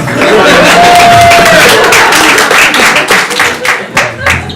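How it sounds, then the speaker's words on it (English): A comedy club audience at a Bright Club night breaks into loud applause and cheering, a close, dense roar of clapping and shouts that thins and fluctuates toward the end. "Big loud cheers at the end"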